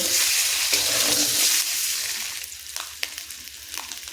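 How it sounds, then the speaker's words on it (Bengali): Eggs seasoned with a little turmeric fry in a pan, giving a loud, close hiss that eases after a second or so into softer sizzling broken by a few sharp pops and clinks. "দিয়ে ডিমগুলোকে আমি খুব সুন্দর করে ভেজে নেব"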